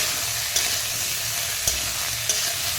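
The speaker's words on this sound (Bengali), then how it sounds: "কপিগুলো দিয়ে একটু হালকা ভাজা ভাজা করি করে তারপরে আলুগুলো দেবো" Cauliflower and potato pieces sizzle steadily as they fry in a pan, a close, even hiss punctuated by three brief scrapes of a spatula stirring.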